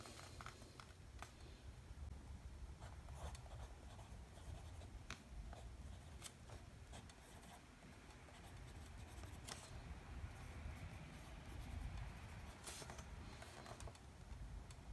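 A fountain pen filled with Italian ink scratches across paper, heard as a faint, continuous close-up scribble of nib strokes and small ticks with no talk.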